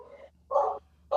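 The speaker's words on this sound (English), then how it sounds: "I take it that's your dog." A pet dog barks downstairs in a house, two short sharp barks about half a second apart with a third starting at the end, clear and fairly close against a quiet room.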